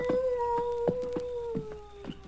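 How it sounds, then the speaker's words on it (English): An eerie, sustained canine-like howl, like a coyote or wolf, carries at night in a dark canyon in an old radio drama. The steady tone slowly falls in pitch over a regular series of soft rhythmic thuds. "Is that a coyote or a wolf?"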